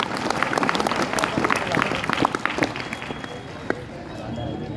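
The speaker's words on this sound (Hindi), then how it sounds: "जोरदार तालियां बजाएं" Audience applause at a Republic Day speech event, a dense burst of many hands clapping that fades toward the end, heard close and without talk.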